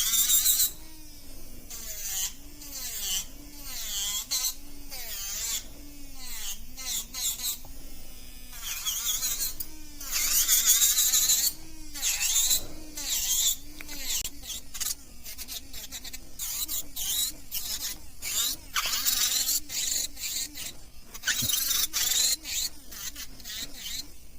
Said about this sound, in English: So we're just gonna go ahead and start filing it down.